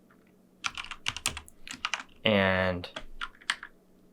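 Computer keyboard typing in irregular bursts of clicks while code is entered, with a brief loud tonal noise partway through and a single spoken word.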